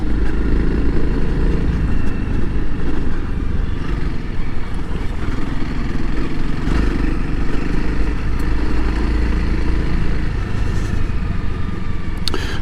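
A Honda CRF300L dual-sport motorcycle ridden over asphalt and dirt: a loud, steady engine drone with wind rush and mechanical clatter throughout, heard close from the rider's position, without speech.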